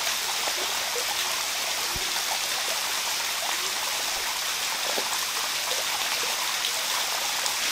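Steady broadband rush of a waterfall and stream in a tropical forest, continuous and fairly loud with faint splashes and trickles, no voices.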